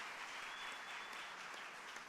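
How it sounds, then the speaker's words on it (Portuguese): A church congregation applauds during a Sunday family service, a steady even patter of many hands that carries through the brief moment without pause, fairly distant and soft. "Você pode dar uma salva de palmas ao Senhor Jesus nessa manhã."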